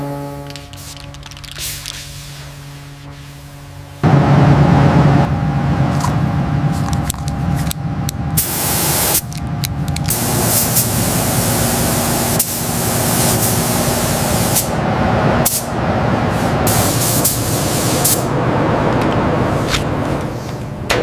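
A spray gun applying sealer to a 1972 Volkswagen camper starts after a quieter stretch and then hisses loud and steady, with brief pauses and restarts between passes.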